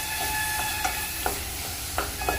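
Ground carrot fries in ghee with a continuous broad sizzle. Several soft scraping clicks of a spoon stirring against the pan come at irregular intervals, with no one speaking.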